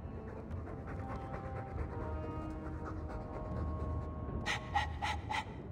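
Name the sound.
dog panting noisily, from the video game Dragon Age 2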